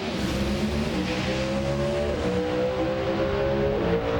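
Drag racing car making a qualifying run at the NHRA K&N Filters SuperNationals, a loud sustained engine roar with rising pitch as it accelerates down the strip, heard from a distance over crowd ambience.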